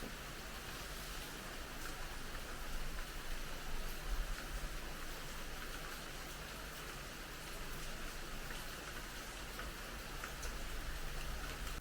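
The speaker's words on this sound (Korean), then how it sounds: "비가 진짜 단 한순간도 멈추지 않았어" Steady rain falls outside a hotel in Bali, a continuous dense hiss of drops with no break, even and moderately distant, with no voices.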